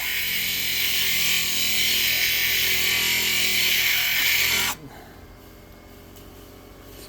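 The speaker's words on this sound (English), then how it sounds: "Then I'm just going to grind these down. And this is a 50 grit wheel on here," Power grinder fitted with an aggressive 50 grit wheel grinding down rock, a loud, harsh continuous abrasive roar up close that stops abruptly partway through, leaving a quiet hum.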